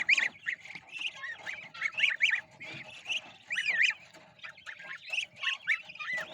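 Ducklings fed freshly pulled grass, giving rapid high squeaky peeps and chattering calls in quick bursts, close and fairly quiet, with no voices.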